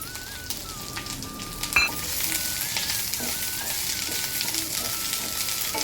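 Drumstick leaves roast in a hot pan while being stirred, producing a loud, continuous, close-up sizzle and crackle with occasional scraping from the stirring.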